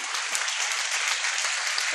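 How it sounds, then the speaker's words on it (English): A school ceremony audience applauds a well-liked teacher being felicitated, a steady wash of many hands clapping continuously and evenly throughout. "Look at the round of applause"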